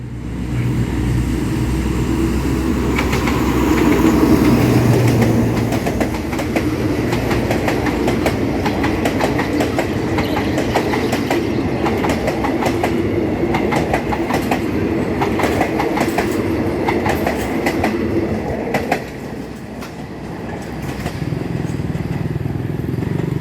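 Locomotive 4217 hauling an empty rake of suburban passenger cars, three Queensland coaches in the middle, rolls over the Ranong 1 Road railroad crossing. A loud, steady engine rumble gives way to continuous rhythmic wheel clatter heard up close.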